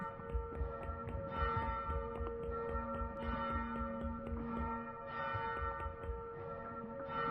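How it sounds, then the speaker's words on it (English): Game bell ringing in a steady, sustained peal with strong tonal partials, fairly loud and continuous throughout, with no talk over it. "Why is the bell ringing?"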